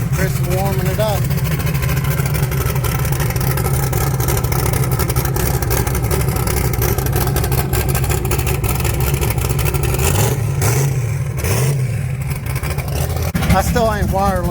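A turbocharged 383 small-block Chevy in a 1980 Trans Am race car warms up with a steady, loud rumbling idle and a few brief blips of throttle, while people talk over it.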